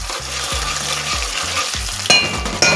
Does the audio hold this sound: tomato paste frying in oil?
yes